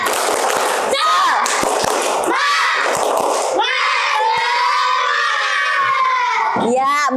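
A classroom of children claps in a quick rhythmic spirit pattern, sharp clustered claps, then breaks into loud excited shouting and chanting together, close and energetic.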